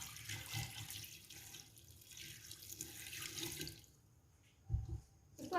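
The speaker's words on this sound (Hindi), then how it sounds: "इसके अलावा हम इसमें 3 गिलास इसमें हम पानी के शामिल करेंगे।" Water from a tap runs steadily into a cooking pot, three glasses' worth added to mutton rosh (namkeen gosht) with turmeric, a continuous close splashing flow that stops near the end, followed by a brief clunk.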